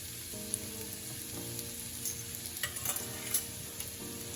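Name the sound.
stirring fried rice with oyster sauce in a pan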